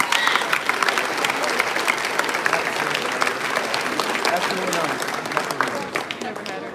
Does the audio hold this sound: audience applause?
yes